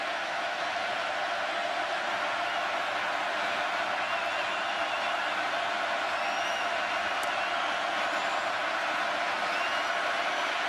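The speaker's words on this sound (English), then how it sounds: "it's owing to the crowd noise here at Kyle Field" A large stadium crowd at Kyle Field roars steadily as Texas A&M fans keep up a constant, dense wash of noise, loud and unbroken, with faint whistles above it.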